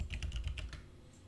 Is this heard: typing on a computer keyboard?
yes